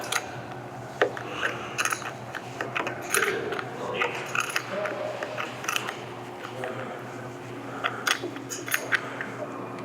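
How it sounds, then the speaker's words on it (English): Metal ratcheting clicks from a 1/2-inch wrench tightening a nut during assembly of a solar unit, a series of short irregular clicks and scrapes at close range, fairly quiet, with light handling noise between them. "So we take our 1/2-inch wrench and"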